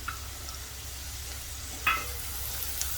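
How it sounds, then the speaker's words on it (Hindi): A soft, continuous sizzle of crushed ginger and garlic frying with onion in a pan, with a single clink of a utensil midway. "थोड़ा सा प्याज भून जाए, उसके बाद इसमें डाल देंगे अदरक लहसुन कुटी हुई,"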